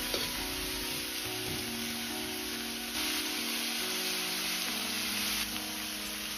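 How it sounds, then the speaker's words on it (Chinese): Winter melon stir-fried in a wok, half pan-fried and half tossed to drive off its water, giving a steady, loud sizzle throughout with occasional stirring scrapes and no voices. "通过这样的煸炒可以去除冬瓜的水分"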